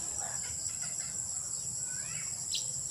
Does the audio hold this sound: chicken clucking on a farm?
yes